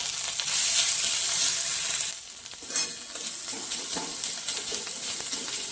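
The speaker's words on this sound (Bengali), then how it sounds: "হিং দিলাম, আর কাঁচা লঙ্কা আদা থেতো করে দিয়ে দিলাম" Asafoetida, crushed green chilli and ginger frying in hot oil over a cumin tempering for cauliflower paratha, a loud, steady close sizzle with stirring that dips briefly partway through and then continues.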